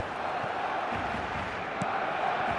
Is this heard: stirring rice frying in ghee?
no